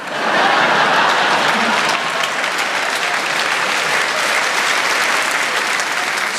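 Audience applause at a stand-up comedy show: a loud, steady wash of many hands clapping from a large crowd, continuous throughout with no talk.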